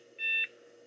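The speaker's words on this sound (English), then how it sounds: "Beeping." A Compaq SLT/286 laptop gives a single short, steady electronic beep at startup, clean and alone against a quiet background hum.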